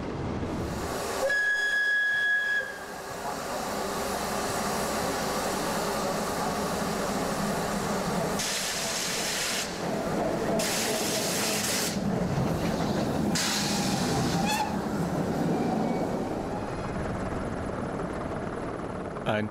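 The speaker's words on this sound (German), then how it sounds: "unter dem Stampfen der Maschinen und unter dem Rauschen des Hubschrauberrotors" Class 52 steam locomotives of the ÖBB work hard on the Semmering railway, a loud, continuous roar and hiss with rhythmic chuffing surges, mixed with the steady beat of a helicopter rotor overhead.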